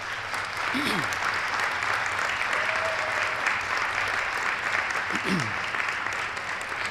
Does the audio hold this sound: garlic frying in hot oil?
no